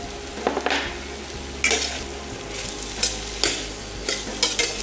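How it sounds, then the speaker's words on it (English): Garlic fries in a pan, a low sizzle under a series of sharp scraping stirs and clinks of a utensil on the pan, close and alone without voices. "we're going to add some garlic in. Get that nicely fried up, but we don't want it to burn"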